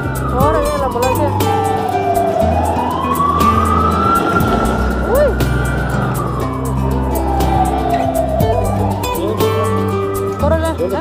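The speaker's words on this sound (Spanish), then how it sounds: "Ahora viene la ambulancia." An ambulance siren wails loudly, sweeping slowly up and down in pitch, with traffic rumble and people talking underneath, in the city of Guanajuato, Mexico.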